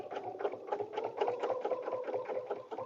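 A sewing machine stitching fabric in a paper-pieced butterfly dresser scarf, its needle chattering in a fast, regular mechanical pulse at close range, steady throughout.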